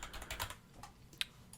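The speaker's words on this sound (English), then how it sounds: "I'm just typing this up as I go" Quick, fairly quiet typing on a computer keyboard, a run of light key clicks with one sharper tap near the end and no voices.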